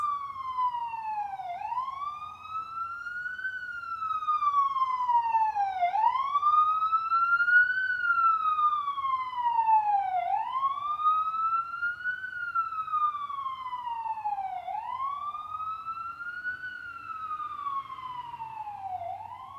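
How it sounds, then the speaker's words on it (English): A passing emergency vehicle's wailing siren sweeps up and down in long repeating cycles, loud and steady throughout, with faint road rumble beneath. "Sorry about the siren."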